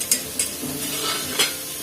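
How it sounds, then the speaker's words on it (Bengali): Potatoes fry in a pan with a soft steady sizzle, broken by a few quick metallic scrapes and clinks of a spatula stirring. "এইসবে তো আলু ভাজছি"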